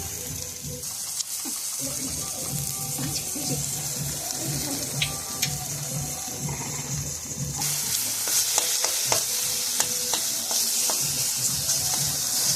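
Kochu loti (taro stolons) fry in a pan with a continuous close sizzle, broken by scraping stir strokes and occasional clinks, and the sizzle grows louder toward the end.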